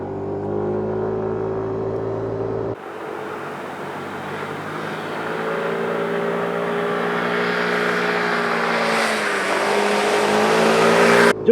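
Yamaha Cygnus Gryphus 125 scooter riding along a winding mountain road, its engine droning steadily and rising in pitch as it accelerates, with wind rush building, close and loud throughout with no talk.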